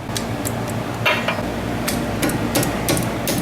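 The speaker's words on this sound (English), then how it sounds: "Now we're just gonna take the two 14mm bolts behind the caliper off right here." Work on a Mazda B2300 brake, removing two 14mm caliper bolts: a series of sharp metallic clanks and taps in an irregular rhythm, close and fairly loud, with no talk.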